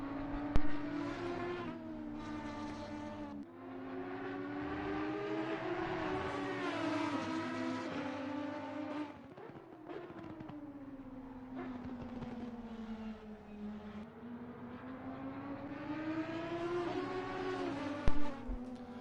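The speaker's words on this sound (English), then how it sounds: "There's a car coming through." A race car revs and shifts through several gears as it passes on the Spa circuit, its engine note climbing and falling repeatedly at moderate distance, with brief sharp clicks near the start and end.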